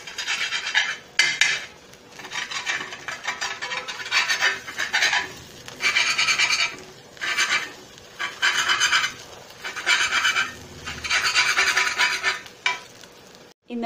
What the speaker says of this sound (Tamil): தோசைக்கல்லே வச்சு குட்டி குட்டி பீஸா அப்படி கட்